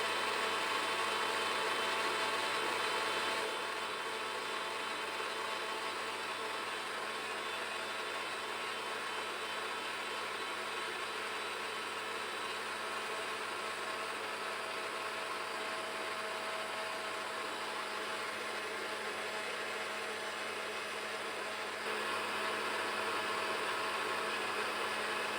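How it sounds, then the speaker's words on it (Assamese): A home mixer grinder churning cream into butter runs as a continuous loud motor whir for about twenty-five seconds, its tone shifting slightly as the butter separates, with no voices. "মন কৰিলেনে মিক্সাৰটোৰ চাউণ্ডটো চেঞ্জ হৈ গ'ল"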